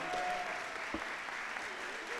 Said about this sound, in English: Keep those rounds of applause going.